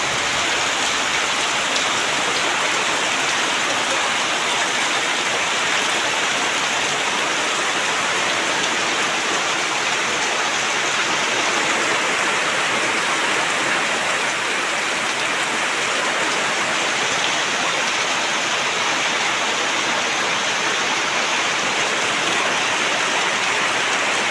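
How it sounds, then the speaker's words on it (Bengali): Heavy rain pouring steadily with gusting wind in Kerala, a dense, loud, unbroken roar of water hitting surfaces throughout, with no voices. "যা বৃষ্টি হচ্ছে আর যা ঝড় মারছে বাতাসের জন্য"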